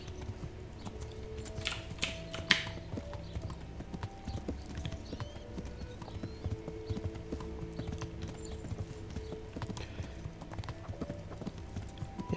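A horse plods along in Kingdom Come: Deliverance, its hooves clopping in an even, unhurried rhythm throughout, with a brief brighter rustle early on and soft game ambience underneath.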